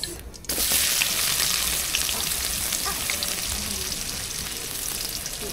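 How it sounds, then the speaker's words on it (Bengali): Onions frying in hot oil with whole garam masala, a steady dense sizzle that starts after a brief quieter moment and holds loud and even throughout, with faint stirring scrapes and no voices. "লাল লাল করে পেঁয়াজ ভাজিছি"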